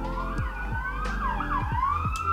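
An emergency vehicle siren wails outside in Los Angeles, a loud rising and falling tone sweeping steadily with engine rumble beneath, no talking.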